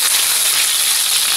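Chicken galantine frying in a pan, a steady loud sizzling hiss that holds even throughout with no one talking.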